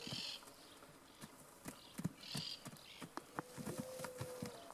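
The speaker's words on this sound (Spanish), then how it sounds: "es un potro para poder domarlo" A Criollo colt, an unbroken purebred ready for training, moves about with hooves clip-clopping in an irregular, fairly close rhythm, steps near and distinct with no talk over them.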